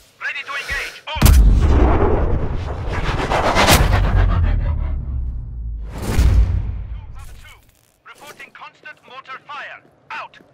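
Mortar and gunfire in the video game Sniper Ghost Warrior Contracts: heavy booming blasts with rumbling tails repeat over several seconds and loud shots fade toward the end, while a voice shouts over the fire.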